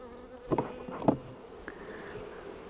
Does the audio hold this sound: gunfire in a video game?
no